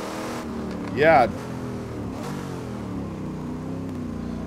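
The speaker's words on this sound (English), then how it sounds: "road car Corvette would sound different than race car Corvette, but it just seems like it's a little off" Red race-spec Corvette engine revving in the Assetto Corsa racing game, a brief loud rising rev burst that fades back into a steady engine drone, with a voice talking briefly.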